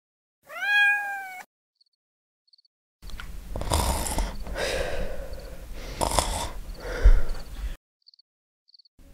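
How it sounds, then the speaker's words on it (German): A kitten gives a single clear, rising-falling meow, then after a pause comes a stretch of snuffling, rustling feeding noises with soft breathy sounds, close and fairly quiet. "Komm her, mein kleines Kätzchen."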